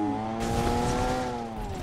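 A car driving in a video game, its engine holding a steady, droning harmonic tone that rises slightly as it revs, up close and alone for just under two seconds.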